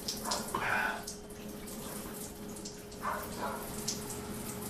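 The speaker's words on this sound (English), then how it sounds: "let me just rinse this off." Water runs and splashes faintly from a tap as soap is rinsed off outdoors on a trail, with soft irregular spatters and drips over a steady low hum.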